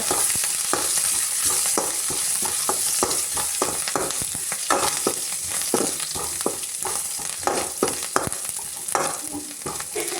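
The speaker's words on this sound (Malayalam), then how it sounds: "വെളിച്ചെണ്ണയ്ക്ക് ഉള്ളി ഇട്ടു, എന്നിട്ടത് മൂപ്പിക്കുകയാണ്" Sliced onion and curry leaves fry in hot coconut oil for a fish curry, giving a steady close sizzle broken by frequent sharp scrapes and taps of a stirring spoon against the pan, with no voices.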